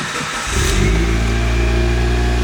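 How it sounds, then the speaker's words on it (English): A Mitsubishi Lancer Evolution 7 GSR engine cranks and catches, then settles into a loud, steady running hum close by, with no voices. "So let's get the car started for you."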